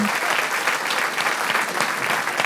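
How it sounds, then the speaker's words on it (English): An audience at a barbecue chef competition claps loudly and steadily, many hands beating together in a dense, continuous burst of applause. "let's give our three chefs some applause to go out on"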